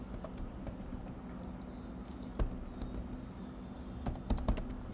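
Code being typed on a computer keyboard: steady clicking keystrokes in quick irregular bursts, close and fairly soft over a low background hum, with a few sharper, louder key hits near the end.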